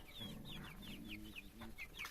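Chickens cluck and murmur close by, with Brahma chickens among them, giving a rapid series of short, high clucks over a low, continuous chattering from the flock.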